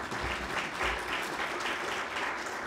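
Audience applause at a remembrance event, a steady wash of clapping from a seated crowd that fills the whole moment without pause.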